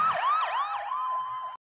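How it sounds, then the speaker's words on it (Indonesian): A police and ambulance siren wails as the vehicles arrive at a crime scene, rising and falling in quick repeated sweeps that settle into a steady tone before cutting off abruptly, loud and clear with no talk. "para polisi dan ambulan pun datang untuk mengamankan TKP"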